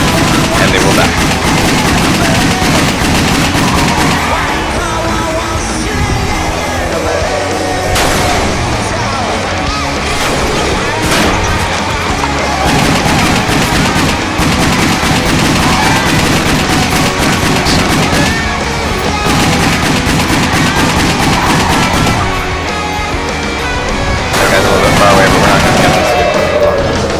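Rapid pistol gunfire in the action video game WET during a speedrun, dense bursts of shots layered over loud game music and effects, continuous and busy with talk mixed in.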